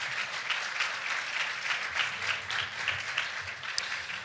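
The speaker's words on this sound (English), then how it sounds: "Let's give another round of applause to all the speakers for today." An audience at a Recovery Month kickoff luncheon gives the day's speakers a round of applause, a continuous, fairly even clapping from a room full of people, heard from a little distance.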